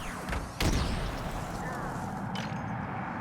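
Gunfire and a grenade blast in the Halo Infinite shooter, with a sharp loud burst near the start and another crack later, over a steady rumbling combat background.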